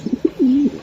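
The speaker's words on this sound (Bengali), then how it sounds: "অরিজিনাল বিআরপিএফসি ক্লাবের কবুতর, এটি ক্লাবের ট্যাগ এর কবুতর" Racing pigeons from the BRPFC club coo close up, giving a few short soft throaty notes followed by one longer drawn-out low coo.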